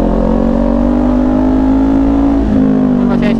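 A Kawasaki Ninja 400 motorcycle engine runs loud and close at a steady high idle with a buzzing drone, dipping briefly before picking up again.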